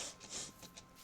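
A person coughs, a few faint breathy bursts ending in one sharp, louder cough, heard close and alone.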